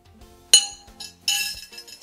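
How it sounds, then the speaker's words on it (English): Metal spoon clinking against a pot while stirring diced tomatoes, chopped Italian parsley and balsamic vinegar into a tomato basil soup: two sharp ringing clinks with light scraping between, close and clear, no talking. "Stir the ingredients together."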